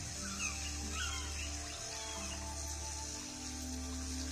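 Crows cawing and other birds calling at sunrise on the Andaman islands by a calm sea, a steady layered chorus with repeated caws over a constant low hum, no talk.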